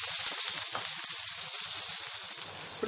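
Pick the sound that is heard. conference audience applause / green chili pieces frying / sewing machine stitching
green chili pieces frying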